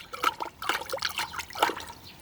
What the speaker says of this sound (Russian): Нужно тщательно перемешать.